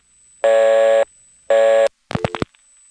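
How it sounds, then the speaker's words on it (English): Telephone reorder tone on a GTE/Leich CXP-5 crosspoint switch after a trunk times out, heard as two loud buzzing tone bursts, each about half a second, followed by a short crackling click burst, with no talk. "eventually time out to the reorder tone"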